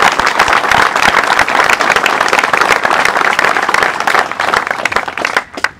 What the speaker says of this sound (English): they need a round of applause because they don't have to do that.